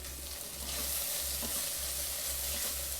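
Egg curry masala sizzles steadily in a hot pan while being stirred, with a continuous frying hiss and faint scraping, and no talking.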